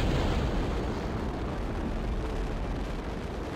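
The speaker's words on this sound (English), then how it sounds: "Alrighty, it's time to fire off the SRB stages." Solid rocket booster stages firing in the Mission Moonshot video game, a loud, steady roaring rumble with crackling texture that holds evenly throughout without pause.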